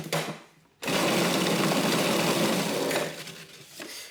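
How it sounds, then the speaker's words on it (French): A kitchen blender starts up and blends frozen ice cream cubes for homemade vegan ice cream, a loud, dense whirring roar lasting about two seconds before winding down, with no voices. "Et ça va être le moment de mixer."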